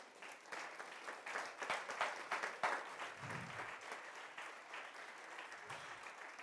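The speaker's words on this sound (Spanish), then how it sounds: "Da un aplauso a Jesucristo." A church congregation claps in a fairly quiet, steady round of applause, a crackling wash of many hands with faint murmuring beneath.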